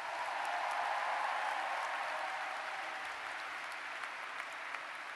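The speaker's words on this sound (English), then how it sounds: "Please, a round of applause for the Welcome Week leaders." Audience at a university new student convocation applauds steadily, a dense even wash of clapping from a large crowd that holds for several seconds and thins slightly toward the end.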